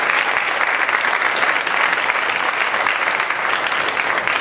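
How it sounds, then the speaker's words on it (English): Audience applause at a faculty gathering in Columbia, Illinois: steady, dense clapping from a sizable crowd indoors, moderately loud and sustained for several seconds without a break. "So big round of applause to everyone."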